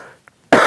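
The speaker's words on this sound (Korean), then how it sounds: "자꾸 기침이 나오지." A pastor leading an online Bible reading gives a single abrupt, loud cough close to the microphone after a moment of near silence.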